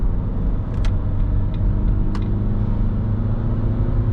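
Inside a Fiat Doblo with a 1.6 Multijet diesel engine climbing a hill in third gear, a steady low engine drone and rumble hums continuously, with a few faint clicks and ticks in the cabin.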